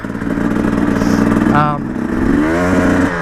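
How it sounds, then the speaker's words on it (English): A KTM 300 two-stroke dirt bike engine, loud and continuous, rises in pitch as it surges into its power band during tricky off-road riding, then drops briefly before climbing again. "just a wah right there, that's when it started to come in. There was a huge surge of power just there"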